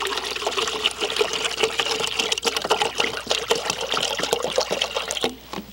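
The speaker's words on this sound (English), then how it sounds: "Next, we want to put some water in here." Water pours steadily into a tin can, a continuous trickling fill with a bright splashing texture that runs for several seconds and tapers off near the end, with no talking.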